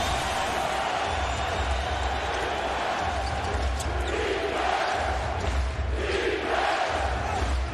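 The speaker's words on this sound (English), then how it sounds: "the crowd is into it now" A basketball arena crowd in a Blazers–Magic NBA game roars steadily throughout, a dense, constant wash of cheering with a low rumble and no break.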